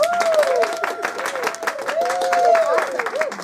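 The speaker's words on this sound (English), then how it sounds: "I think we got to clap again." Clapping from a small group breaks out under excited overlapping voices, with sharp vertical claps scattered through a busy, cheerful room and speech running throughout.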